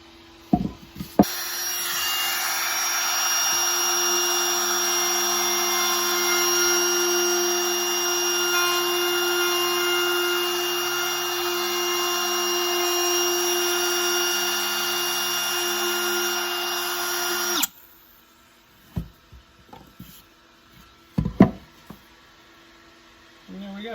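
Steady power sanding of wooden stools in a workshop, a loud continuous abrasive whir running for about sixteen seconds, then stopping abruptly, followed by quieter handling knocks and taps.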